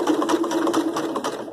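A sewing machine stitches across coiled rope for a rope bowl in a fast, even run of close mechanical needle thumps over a motor hum, loud and uninterrupted by speech.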